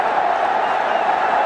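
A brief stretch of steady cheering from a packed cricket stadium crowd, a dense, even roar with no distinct peaks.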